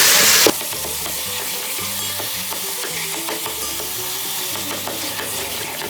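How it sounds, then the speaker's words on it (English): Ground beef seasoned with paprika being smashed and stirred as it browns in an Instant Pot, a steady close sizzle with scraping spoon strokes and no talking. "And then we'll just smash this and cook it so it's cooked."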